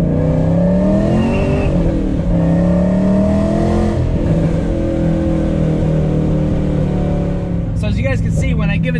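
5th gen Chevrolet Camaro SS with Badlanz exhaust cutouts open, a loud deep V8 idle and rumble that rises in a couple of revs, close by, with someone talking near the end.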